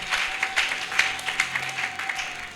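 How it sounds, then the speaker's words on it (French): A church congregation claps in unison during worship, a dense run of steady, rhythmic applause filling the space at moderate loudness, with a faint sustained tone beneath it. "Acclamons pour la gloire de notre Dieu, de notre Seigneur."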